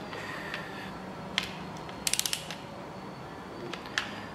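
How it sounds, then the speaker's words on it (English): A torque wrench ratchets on the timing cover bolts of a Chevrolet 454 big block engine, giving quick, close bursts of clicking with a short rapid run in the middle over a low background hum. "we're gonna grab our torque wrench and set that to 20 foot-pounds"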